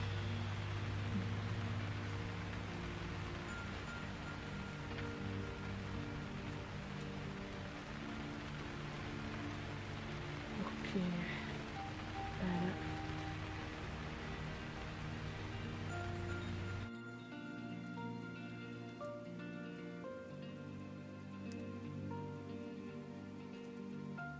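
Steady rain falls on a vegetable plot where eggplant seedlings are being raised, a dense even hiss that carries on without a break and turns slightly softer and duller toward the end. No one speaks.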